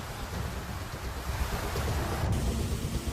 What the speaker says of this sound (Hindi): ये न्यूयॉर्क का मेट्रो स्टेशन है, जहां भारी बारिश के बाद झरना बह रहा है।